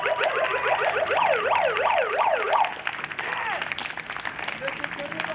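A rally crowd applauds and cheers in a dense, steady wash of clapping, while a loud wailing, whooping alarm-like tone rises and falls repeatedly over the first half before fading.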